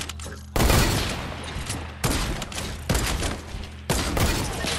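Semi-auto weapon shots ring out in Fortnite, four or five heavy, loud reports spaced about a second apart, each followed by a booming tail.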